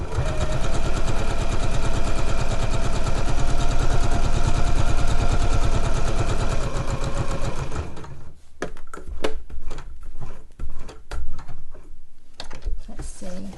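A sewing machine stitches a zip tote pocket, a loud, fast, even mechanical whir with rapid needle chatter for about eight seconds, then stopping into scattered clicks and handling noises.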